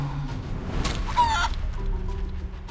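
Chicken clucking from Divinity: Original Sin 2 sounds over a faint game background, with a short burst of squawking clucks near the middle before quieter ambience returns.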